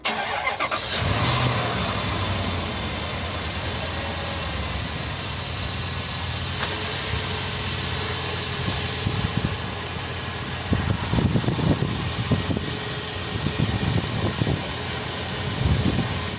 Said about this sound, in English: we'll go ahead and show you a quick cold start that we did right before we moved over here